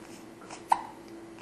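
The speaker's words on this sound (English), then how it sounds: "Hiccup." A two-week-old baby gives one small, sharp hiccup, soft and close, over faint breathing.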